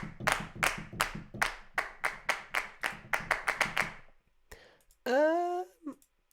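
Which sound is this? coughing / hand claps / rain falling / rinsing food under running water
hand claps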